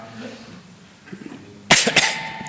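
After a quiet, murmured stretch, a person lets out a sudden sharp cough, close and loud, followed by a couple of smaller hacking bursts.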